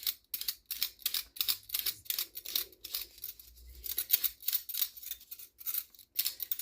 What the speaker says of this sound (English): I use the potato peeler to get the skin off.